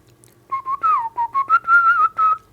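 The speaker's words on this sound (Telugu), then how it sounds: "ఆ భావాన్ని విజిల్లో పలికించాలి." A classical musician whistles a Carnatic song melody up close, in clear phrased notes with slides and ornaments, heard alone and bright.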